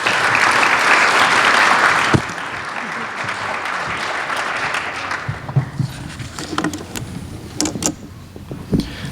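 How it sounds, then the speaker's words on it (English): An audience applauds a speaker at a CPA Ontario finance event; dense, loud clapping fills the opening two seconds, then thins into scattered claps and faint room noise. "So let's give him a warm round of applause."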